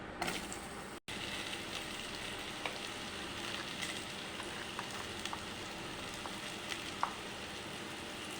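Potatoes fry in hot oil with nigella seeds, dried chili and bay leaf, a steady close sizzle with scattered pops and crackles running throughout.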